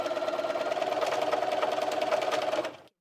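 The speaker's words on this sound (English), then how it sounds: "something is just not right with your sewing machine" A Bernina 215 sewing machine with incorrect thread tension runs fast and steadily for a few seconds with a rhythmic mechanical whir and a faint uneven knock, then stops.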